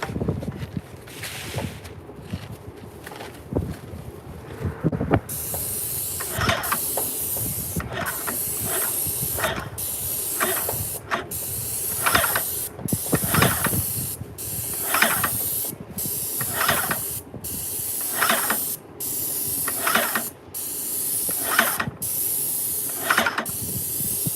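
A paint sprayer coats a desk in a steady run of loud hissing bursts, about a dozen evenly spaced sprays with brief pauses between them, close up and alone.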